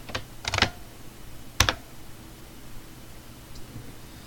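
Short bursts of keystrokes on a computer keyboard, a few quick clicks clustered together, then a pause and another pair, close and fairly quiet over soft room noise.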